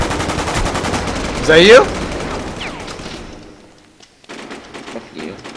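Rapid bursts of gunfire in the online shooter game War Inc crackle loudly at close range, peaking in a dense volley early on, then fading into sparse shots with a player's voice speaking over it.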